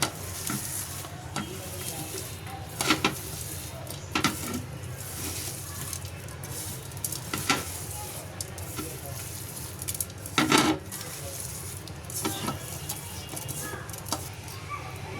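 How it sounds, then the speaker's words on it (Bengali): Chopped onion and chili powder with a little salt fry in a pan, a steady close sizzle with repeated scraping stirs and occasional clinks of the spatula against the pan. "পেঁয়াজ আর মরিচটাকে ভালো করে কষলে নিয়েছি"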